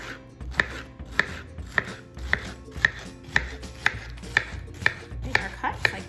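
A knife slices through a pineapple onto a cutting board in about ten crisp, evenly spaced chops, each a sharp close knock, with a low background hum and no talk.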